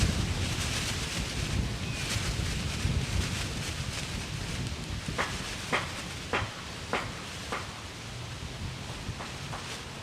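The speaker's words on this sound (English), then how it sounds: "A lot of wind picking up here." Gusty outdoor wind during plein air painting of an old Victorian house, a steady broadband rush buffeting the microphone with scattered sharper gusts and rattles, no talking.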